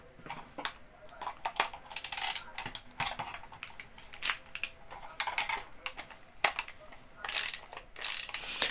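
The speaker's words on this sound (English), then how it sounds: "cracking out the old screwdriver here, let's take this sucker apart" A screwdriver takes apart a cheap plastic computer mouse up close, giving irregular clicks, ratcheting ticks and small plastic rattles in quick bursts.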